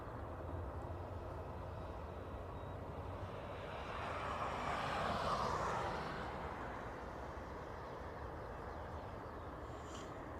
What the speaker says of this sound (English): we do have an A330 arriving. From Washington.